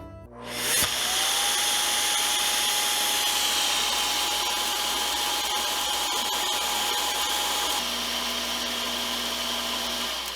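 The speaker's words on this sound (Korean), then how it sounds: "충전 거치대에 놓으면 자동 먼지 비움 기능이 있어서 청소기의 먼지와 쓰레기가 거치 후 자동으로 청정 스테이션으로 빨려 들어갑니다" A Shark Clean Sense IQ+ cordless vacuum docking station auto-empties its dust bin with a loud, steady, high-pitched suction whine that starts abruptly and holds for about ten seconds.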